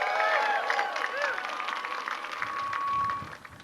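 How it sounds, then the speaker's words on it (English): A crowd at the dedication of The Shed claps and cheers, with whoops and raised voices over dense, steady applause that stays loud throughout. "give them a thunderous round of applause and congratulations"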